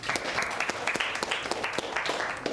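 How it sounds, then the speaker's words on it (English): Students in an English classroom applaud together, a brisk patter of many hands clapping steadily for a few seconds, fairly close and even, with no one speaking over it. "Can you all give yourselves a round of applause?"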